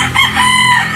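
A young golden rooster crowing up close, a loud sustained call filling the brief moment.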